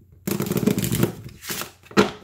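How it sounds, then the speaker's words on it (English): A deck of Literary Witches Oracle cards with trimmed edges being riffle-shuffled, a rapid fluttering burst followed by two shorter riffles and bridging taps, close up with no talking. "we're going to go ahead and give these a shuffle"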